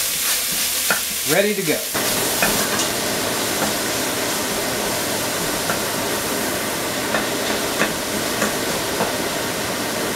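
Ground beef sizzles and fries in a pan while a spatula scrapes and breaks it up, a steady close crackle with scattered stirring scrapes throughout. A brief voice is heard near the start.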